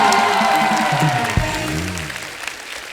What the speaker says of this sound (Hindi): मेरा मामा के लिए जोरदार ताली हो जाए गोविंदा जी के।